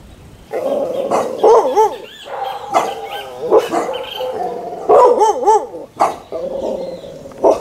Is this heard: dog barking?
yes